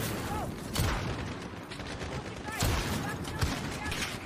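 Gunfire in the video game Call of Duty: Modern Warfare, several sharp bursts and clicks over a dense, noisy background, with a player talking over the action.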